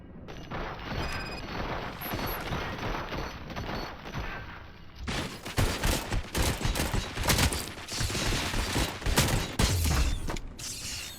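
Rapid bursts of gunfire and clanking mechanical noise from a RoboCop video game, a steady busy clatter that grows louder and denser partway through, with no talk over it.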